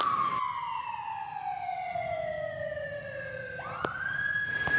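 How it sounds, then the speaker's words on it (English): An ambulance siren wails past at dusk near a rail line, a steady falling tone that sweeps lower as it passes and then rises again, heard alone from a moderate distance. "this ambulance went by."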